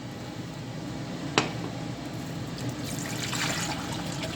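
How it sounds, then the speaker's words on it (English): About 500 millilitres of water trickles and splashes steadily into a pot at close range, a continuous liquid pour with a brief clink near the start. "Add maybe around 500 milliliters of water."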